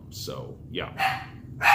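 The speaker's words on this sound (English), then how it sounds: "that's my dog, obviously." A pet dog barks twice indoors, sharp close yips that rise over a man's brief speech and a low background hum.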